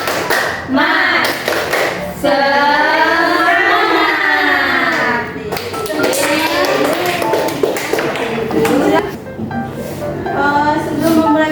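Classroom of students performing the rhythmic tepuk semangat clapping chant, with sharp claps punctuating loud group chanting voices throughout.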